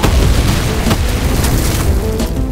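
A fire barrel explodes when shot in Doom with the Project Brutality mod, on the TNT: Evilution map Storage Facility: a loud, close blast that leaves a roaring, crackling burst of fire.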